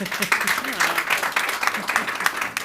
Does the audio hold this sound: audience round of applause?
yes